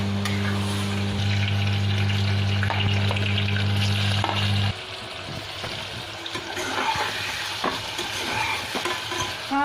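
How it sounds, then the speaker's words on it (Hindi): Paneer frying in a pan with peas and tomato gravy, a steady loud sizzle with stirring scrapes, joined by a low electrical hum for the first half before it drops away. "हाँ पनीर फ्राई कर रहे हैं।"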